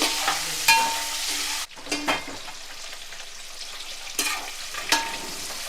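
Eggs frying in a pan with turmeric, a close steady sizzle punctuated by a few sharp spatula scrapes and knocks, one sudden drop in loudness before the sizzle continues, no talking.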